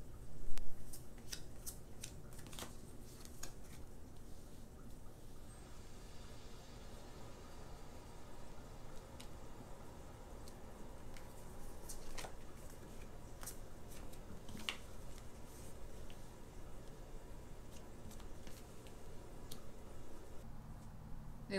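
Tarot cards are laid out and spread on a surface, making faint, scattered soft clicks and slides that come in irregular bursts over a low hiss throughout.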